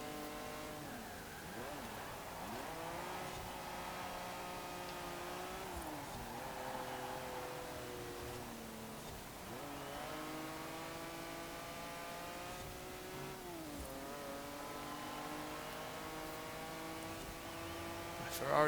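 A Ferrari V6 race car engine in Forza Horizon 4 drones at a steady revving pitch that rises and dips as it shifts through gears over a long run, fairly quiet, with no talking.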